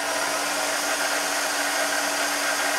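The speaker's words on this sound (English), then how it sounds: "You hear the head sounds really good." The head of a Trak bed-type two-axis CNC milling machine spins at about 300 RPM, giving a smooth, steady, even whirring hum at close range with no voices over it.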